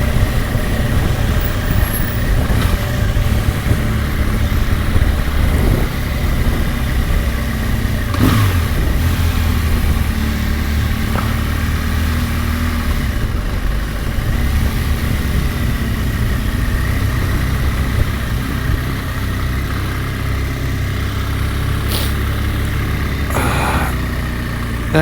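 A BMW R1200 GS motorcycle engine runs steadily throughout a ride through four-wheel-drive country, with a continuous low drone, wind rush and a few brief bumps and clatters, loud and close with no talk.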